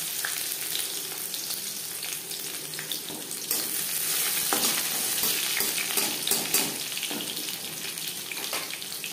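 Garlic cloves hitting hot oil with panch phoron spices in a pan, a loud, continuous close sizzle with crackling bursts and a brief splash of liquid, no voices.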